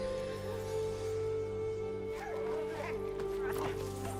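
A puppy in a video game gives a few bright, yipping barks that sit at a moderate level under a steady musical background, while a person talks over it.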